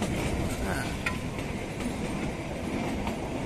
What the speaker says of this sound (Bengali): এই দেখো গাড়িটা ঘুরছে দেখো, এই ঘুরে গেল, এই টানেলের মধ্যে ঢুকবে।